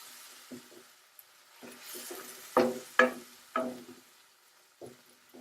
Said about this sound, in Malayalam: ഞാനിപ്പോൾ ഇങ്ങനെ അരച്ചതാണ് ചേർത്ത് കൊടുക്കുന്നത്